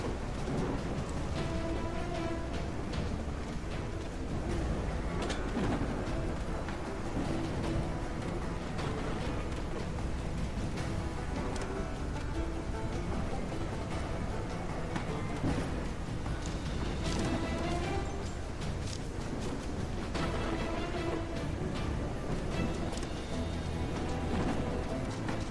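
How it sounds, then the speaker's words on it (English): Heavy rain in the mouse city-building game Whiskerwood, a steady dense downpour hissing throughout with low thunder rumbles rolling beneath it, loud and unbroken for the whole stretch with no voices. "Heavy rain, slower move speed."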